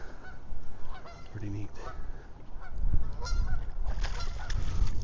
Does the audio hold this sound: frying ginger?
no